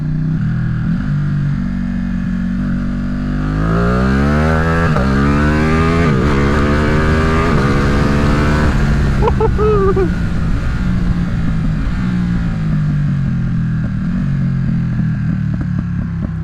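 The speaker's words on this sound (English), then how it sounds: "Let's end this video with a nice little Ducati power wheelie." A Ducati Streetfighter motorcycle with race modifications roaring loudly during a power wheelie, its engine revving up in rising sweeps through several gear changes before settling to a lower drone.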